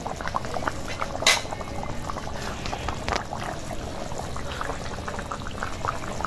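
Turnip and small-chicken curry bubbles in a pot while dry ground spices are tipped in, a steady soft boiling burble with one brief sharp clatter near the start.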